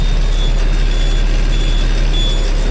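A tanker truck idles loudly with a steady engine drone while a thin, high reversing beep tone runs through it, close by and without speech.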